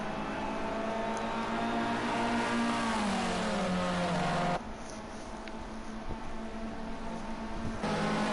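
Formula C race cars in the racing game Project Cars 2, a steady engine drone with shifting pitch during a race, moderately loud and continuous with no talking.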